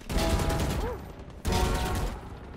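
Rapid bursts of gunfire from the video game Valorant while the player runs, loud and close, in two dense volleys split by a brief gap.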